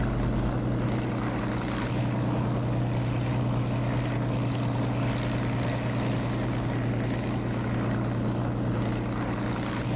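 Spitfire propeller aircraft engine in the DCS flight simulator game, a loud, steady droning hum with a strong low tone that holds evenly throughout, with no talking.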